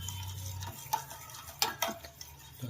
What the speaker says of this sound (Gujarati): દહીંને આપણે હલાવી નાખીએ છીએ